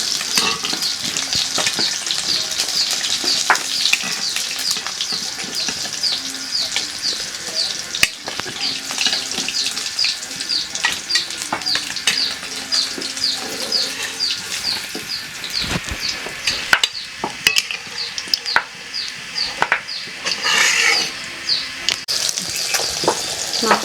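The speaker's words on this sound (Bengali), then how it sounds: "এই যে ভাজি হয়ে গেছে, মাছ ভাজি হয়ে গেছে" River kalibaus fish frying in a pan gives a steady, close sizzle with crackling pops and occasional clinks of a utensil, with no talk over it.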